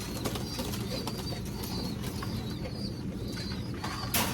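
Racing pigeons coo repeatedly in soft, rolling calls, with a faint background rustle and a brief flutter near the end.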